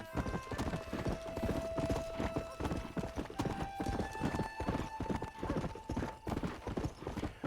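Steady clip-clop of horse hooves in Red Dead Redemption plods along at a walking rhythm, with a few soft tonal whinny-like sounds and faint background ambience.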